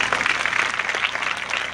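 Audience at a school gathering clapping, a dense, even burst of applause at moderate volume, brief and continuous.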